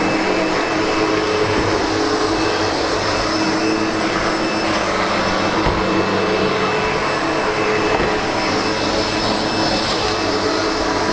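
A SEBO Automatic X7 Boost ePower upright vacuum cleaner runs steadily and loudly at close range, a constant whooshing roar with a faint high whine and no talking.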